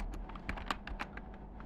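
Code being typed on a computer keyboard, a string of quick uneven key clicks, fairly faint and close, with no voices.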